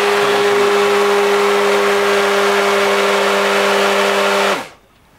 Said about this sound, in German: ich werde Ihnen jetzt mal zeigen, wie das Motor läuft